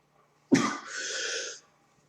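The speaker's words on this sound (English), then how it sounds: "It's giving me a cough today because I think I'm allergic to it or something." A single harsh cough, close and loud, bursting out then trailing into a raspy exhale for about a second, with no talk around it.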